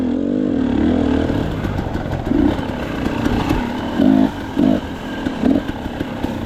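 A KTM 300XCw dirt bike on a trail in the Berkshires idles with a rough engine note, then revs in several short, loud bursts spread over a few seconds.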